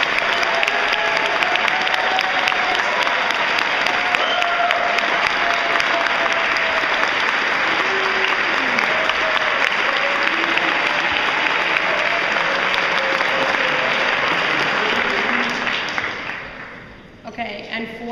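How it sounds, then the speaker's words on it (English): A large audience at a youth awards ceremony breaks into sustained applause lasting roughly fifteen seconds, dense and steady, then tapering off at the end, with faint voices mixed in. "Can we all give them a round of applause?"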